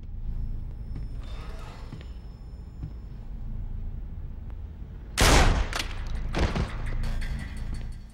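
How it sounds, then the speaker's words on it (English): Shotgun blasts in the shooter game 007 Blood Stone: one loud close burst followed by a second shot and scattered sharp reports, set over a steady low game ambience. "Let's test this shotgun out."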